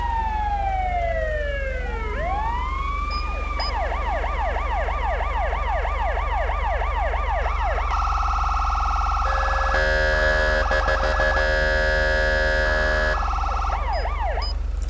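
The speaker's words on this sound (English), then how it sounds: "It's got an old school siren, but it's nice." A loud, close electronic siren from a FiveM video game police vehicle cycles through wailing sweeps, then fast yelping whoops and a pulsing hi-lo tone, sounding synthetic and retro, no voices.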